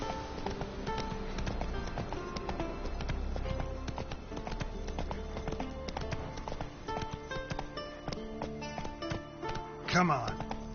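Roach the horse gallops in The Witcher 3, a quick rhythmic clip-clop of hooves running steadily under game music and ambience, with a brief louder burst near the end.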